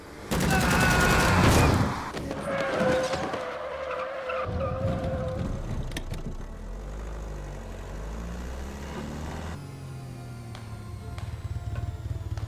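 In the video game Repella Fella, a car chase erupts with loud screeching tire skids and revving engines, followed by a rumbling, continuing rush of vehicle noise.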